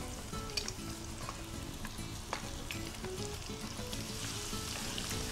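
Onions frying with cinnamon in oil for a spicy beef keema, a soft continuous sizzle with faint crackles, quiet and steady.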